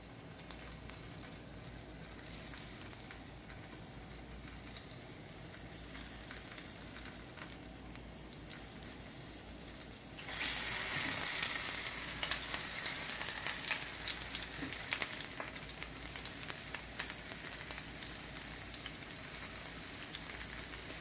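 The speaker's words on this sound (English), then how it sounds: "my camera microphone competes with the sound of frying all the time" Hot oil sizzles steadily, then the frying surges much louder midway as food is added, a dense crackling hiss that continues to the end.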